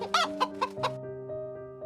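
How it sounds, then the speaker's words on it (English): A chicken in an animated story clucks several short, close, distinct times, then a sustained tonal music bed carries on alone. "The chicken was the first to notice. Cluck, cluck."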